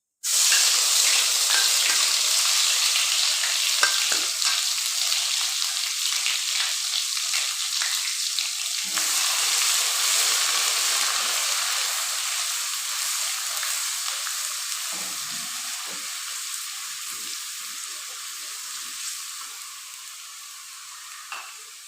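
Cumin and ginger garlic paste hitting hot oil in a pot for chicken shorba, a loud steady sizzle that erupts at once and slowly eases over twenty seconds, with occasional stirring scrapes and no talk.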